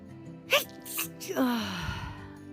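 A single close sneeze bursts out sharply, followed by a shorter sharp breath, then a voice-like descending tone trails off into quiet room noise.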